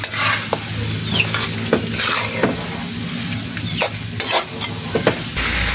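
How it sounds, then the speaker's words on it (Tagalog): Beaten egg poured into a pan of sautéing bitter gourd for ginisang ampalaya, with a steady sizzle and repeated scrapes and clinks of a utensil stirring against the pan, close up. "nilubuhos na po ni Tito ninyo ang itlog"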